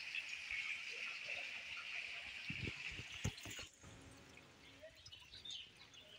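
A natural waterfall at Sitakund rushes in a steady, fairly faint wash of falling water, joined by a few sharp knocks and rustles near the middle before the flow quiets slightly; no speech stands out.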